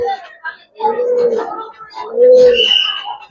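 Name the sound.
pigeon cooing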